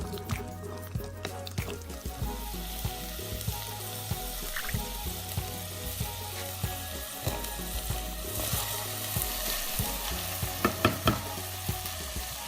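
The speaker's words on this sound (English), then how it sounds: "what I'm now going to do is actually fry the rice till the water evaporates." Soaked rice frying in tomato sauce for sweet jollof rice, a steady sizzle with repeated stirring scrapes and occasional splashy water sounds throughout.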